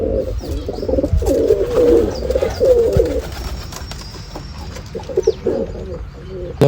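Several caged pigeons coo in soft, repeated throaty phrases, close and clear, with a faint chirp or two and light background rustling.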